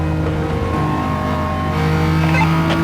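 A high-revving VTEC race car engine in Gran Turismo 7 holds a steady, loud, buzzing drone near its upper rev range, with a faint hint of tire noise and no talking.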